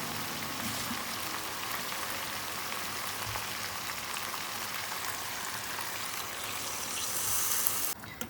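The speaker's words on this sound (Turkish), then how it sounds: "Ardından üzerine geçecek kadar su ilavesi yapıyorum" Water poured into a pot of okra stew with boiled chickpeas, a steady broadband splashing rush that runs evenly throughout and swells slightly near the end before stopping abruptly.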